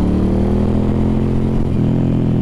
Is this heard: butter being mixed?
no